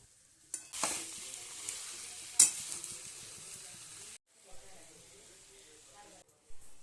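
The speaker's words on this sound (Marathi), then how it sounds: "यात आपल्याला स्वच्छ धुवून घेतलेले चिकनचे पीसेस टाकायचे आहेत आता हे सगळं आपल्याला एकजीव करून घ्यायचं आहे" Washed chicken pieces being stirred into sizzling masala gravy, with spoon scrapes and a bright crackling fry that cuts out briefly and resumes, heard close and fairly quiet.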